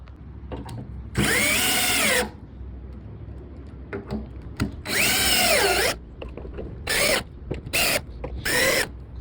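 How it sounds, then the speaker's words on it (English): A power drill drives screws through plywood into a 2x4 frame on a mallard nesting platform. It gives loud whining bursts of a second or so, separated by quieter handling clatter and pauses. "So now I'm gonna screw this plywood onto this 2x4 frame."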